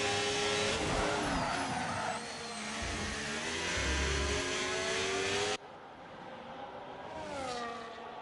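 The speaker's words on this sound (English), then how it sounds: "Jake holding on to it, riding that Ferrari" A Ferrari Formula 1 car engine in a racing video game, on the Canada track of an online F1 league race, screams at high revs. The whine rises and falls through quick shifts and braking, then drops sharply to a quieter, more distant engine note.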